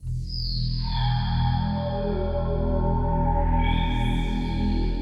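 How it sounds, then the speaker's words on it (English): A bright, sustained Vital synth patch shaped by a multiband compressor that lifts its top end, holding dense stacked harmonics and a steady low pulse for several seconds, played alone. "I've used the multiband compressor in here, not only to control the dynamics, but also to boost the top end."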